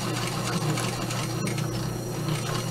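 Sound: sewing machine stitching leather for a zipper installation

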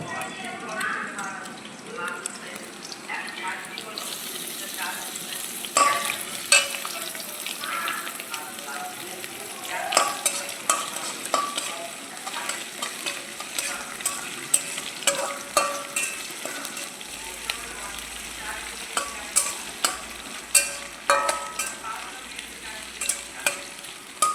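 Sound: stirring ginger and garlic frying in a pan for chicken stew

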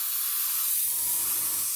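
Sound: airbrush test spray

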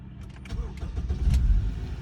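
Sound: car engine starting

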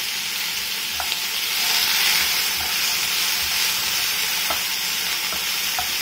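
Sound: onion and garlic frying in a pan

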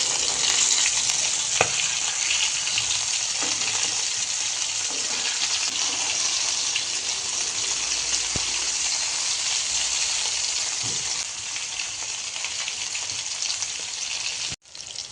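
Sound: fish deep frying in oil

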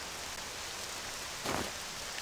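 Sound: rain falling in the video game Octopath Traveler II

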